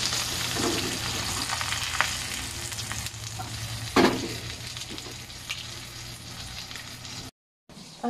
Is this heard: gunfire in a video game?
no